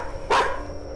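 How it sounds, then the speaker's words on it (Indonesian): A large dog barks once in the horror video game Chilla's Art The Karaoke, set in a Japanese residential neighbourhood: a single sharp, fairly loud bark over a quiet background hum. "Anjingnya menggonggong, ya?"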